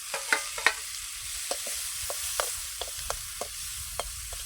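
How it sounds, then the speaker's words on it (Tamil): Tomatoes sautéed in a pan for noodles, stirred with a spoon that scrapes and taps the metal in short, irregular strokes over a soft, steady sizzle, with no voices. "வதக்கட்டுப்பா தக்காளி"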